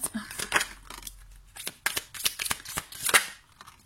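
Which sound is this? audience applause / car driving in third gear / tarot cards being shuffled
tarot cards being shuffled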